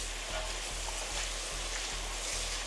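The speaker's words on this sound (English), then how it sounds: "Let's rinse the acid soap." Steady broadband hiss of spraying water rinsing acid soap off car wheels, with a faint rhythmic low thump repeating underneath.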